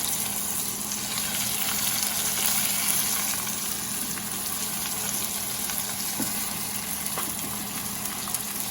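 Fried chicken cutlets are set back into a pan, giving a steady low sizzle and bubbling of hot oil with faint clinks, continuous and moderately quiet, without talk.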